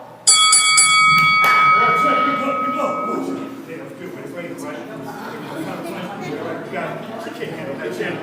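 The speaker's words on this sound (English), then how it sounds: "Oh, did I hear a bell?" A bell rings out clearly at the start of a church service, its ringing tone fading over a few seconds while people chatter nearby.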